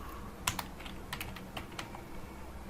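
A computer keyboard is used to type a list of friends' names into PHP code, producing sparse, light key taps scattered irregularly over a soft background hiss, fairly faint and with no voices.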